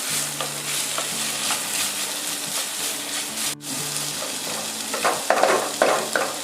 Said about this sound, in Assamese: চব্জিখিনি ফ্ৰাই কৰা হৈ গৈছে